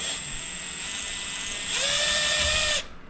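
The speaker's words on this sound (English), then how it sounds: "go ahead and unscrew it" Whirring, ratcheting power tool unscrewing a spoke nipple on a dirt bike rim, a steady close mechanical buzz that climbs to a higher, louder pitch near the end before cutting off abruptly.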